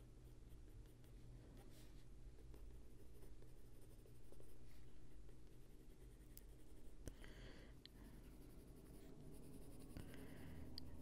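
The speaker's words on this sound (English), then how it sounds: "I'll go back in with a little bit of the pencil" Pencil scratching steadily over dried brown ochre paint lines on a botanical bunny illustration, a close, continuous dry scraping with small pauses and shifts in stroke.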